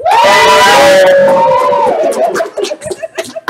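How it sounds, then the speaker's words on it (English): A live game show crowd erupts in loud cheering, screams and laughter, a dense roar that fades into scattered shouts and chuckles near the end. "Cheer on, everyone!"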